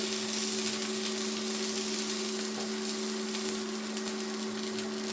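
Steady, dense sizzling of chipolata sausages frying in a hot, thick non-stick pan, close up and continuous, with a faint electrical hum beneath.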